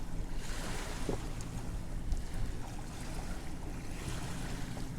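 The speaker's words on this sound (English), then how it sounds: "I love the waves." Ocean surf rolls against the shore at Rockport, Texas, a broad, constant wash of waves mixed with gusty wind rumbling across the microphone, loud and close with no voices.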